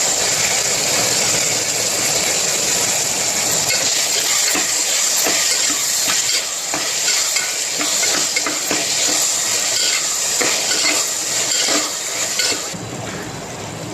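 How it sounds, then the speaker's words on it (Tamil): Onions and tomatoes sautéing in a pan for a fish curry, a loud continuous sizzle and hiss with scattered crackles, up close and unbroken until it thins out near the end. "வெங்காயம் தக்காளிலாம் இந்த அளவுக்கு வதங்கிடுச்சு."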